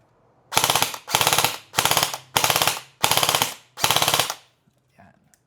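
An airsoft rifle fires on full auto in six loud, close bursts of rapid shots, each burst lasting about half a second, separated by short pauses, then falls quiet apart from a faint click.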